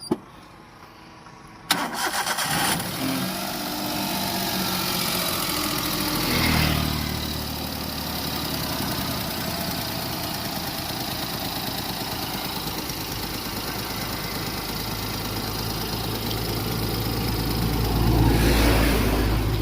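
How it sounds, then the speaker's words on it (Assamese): A Suzuki Alto STD car engine cranks and catches, then settles into a steady mid-pitched idle that runs close and alone, with a slight swell near the end. "গাড়ীখন ষ্টাৰ্ট দি থকা এবাৰ"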